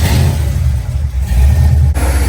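A supercharged, stroked 468 big block Chevy V8 in a clean 1973 Impala revs loudly and steadily, its deep rumble close and continuous with a brief dip near the end.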